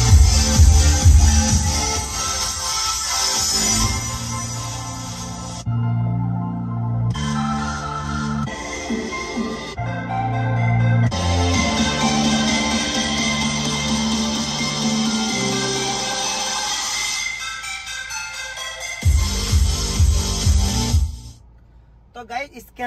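An NCS song plays on a car stereo with the DSP app's 3D effect applied: loud, bass-heavy music with a few short dropouts, fading near the end.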